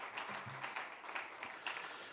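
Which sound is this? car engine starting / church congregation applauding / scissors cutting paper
church congregation applauding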